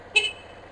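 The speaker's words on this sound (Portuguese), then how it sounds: "Não gosto de buzinar, mas às vezes precisa." A motorcycle horn gives a single short honk in morning traffic, brief and fairly loud over a low road rumble.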